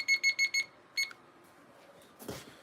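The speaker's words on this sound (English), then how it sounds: "Should I set a timer?" A small kitchen-style timer alarm goes off with four quick beeping bursts, then one more beep after a pause, fairly close and clear over a quiet room.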